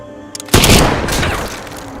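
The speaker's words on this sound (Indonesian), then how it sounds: "suara tembakan tersebut membuat Scott mengetahui posisi Igora" A loud burst of rifle gunfire erupts suddenly after a brief quiet moment, followed by a sustained rumbling, echoing tail.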